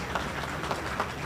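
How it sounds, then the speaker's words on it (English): Audience at a CEO networking event applauds a guest, a short burst of continuous clapping at steady level with a few sharper individual claps standing out. "Please give him a big round of applause."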